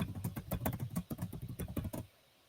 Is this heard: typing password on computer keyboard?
yes